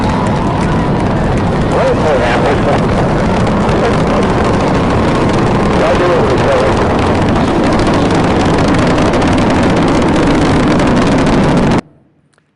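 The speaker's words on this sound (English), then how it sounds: "booster ignition, and liftoff of the Space Shuttle Discovery" Space Shuttle Discovery booster ignition and liftoff: a loud, continuous, broadband rocket roar that stays steady for about twelve seconds, then cuts off abruptly into near silence.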